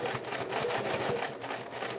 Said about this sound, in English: Now I like to really backstitch at the top of the pockets